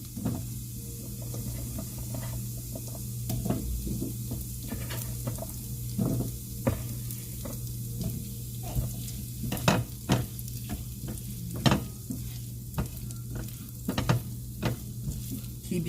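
Diced potatoes go into a pan of sausage over a low fire, setting off a steady close sizzle and frying hiss with repeated scraping stirs and clicks of the utensil, and faint speech now and then.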